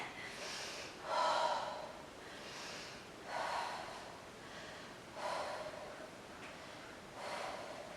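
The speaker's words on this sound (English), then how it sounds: "Breathing deeply here." Deep, rhythmic breaths taken during a yoga-style legs workout held in downward dog, four slow audible breath cycles spaced about two seconds apart, fairly close but quiet, with no talking.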